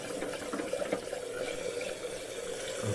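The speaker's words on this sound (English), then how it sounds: "how the water keeps flowing into the bowl" Water keeps running through a faulty toilet fill valve into the bowl, a steady close rushing and trickling flow with no talking.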